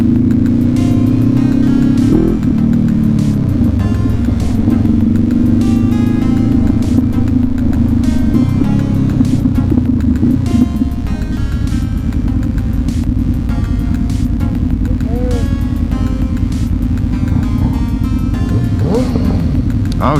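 On a Portland, Oregon street, a car engine revs and accelerates with a loud, continuous rumble, heard from a Honda CB500X motorcycle, with a voice briefly audible.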